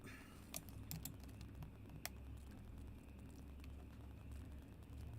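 A message being typed into a live chat on a computer keyboard: a few scattered, quiet key clicks over a low background hum, with no talk.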